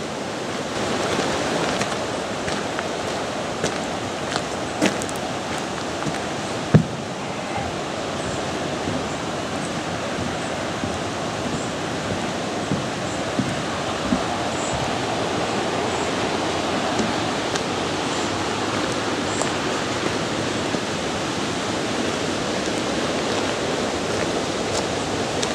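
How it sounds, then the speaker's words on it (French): Waterfall near a canal along a hiking trail in the Creuse countryside, heard as a steady broadband rush of falling water throughout, constant and fairly close with one brief sharp knock partway through. "on devrait se rapprocher de cette fameuse cascade"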